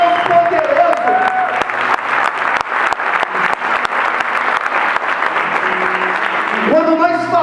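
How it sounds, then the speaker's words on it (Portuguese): A church congregation applauds loudly and continuously, a dense wash of clapping from a large crowd, with a voice calling out over it at the start and end. "aplaude esse Deus maravilhoso"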